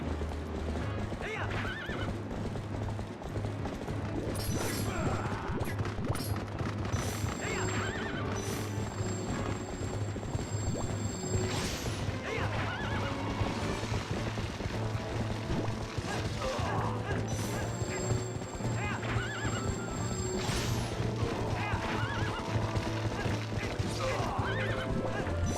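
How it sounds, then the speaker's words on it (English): A horse whinnies repeatedly over steady hoofbeats in Zelda: Twilight Princess, with a continuous dense backing of game sound and occasional sharp impacts throughout. "No, get on the fucking horse, Link."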